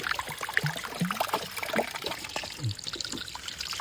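Natural spring water trickles and dribbles steadily in an outdoor setting, a close, continuous liquid patter with small splashy bursts and no voices.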